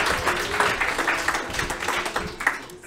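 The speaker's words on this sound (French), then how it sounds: "Merci de l'applaudir" Steady, moderate audience applause at a French science presentation on junk DNA, a continuous patter of many hands clapping without voices over it.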